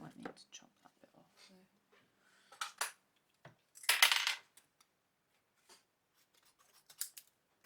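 Scissors snipping a bit off a card for a wrapped chocolate gift, a series of close, crisp cuts with small clicks and rustles, plus a brief louder scrape in the middle, heard under quiet talk.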